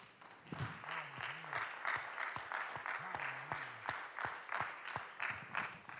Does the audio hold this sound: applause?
yes